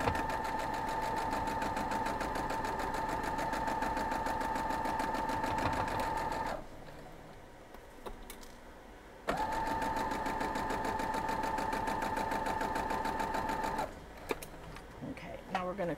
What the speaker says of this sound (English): So we're just going to sew down through here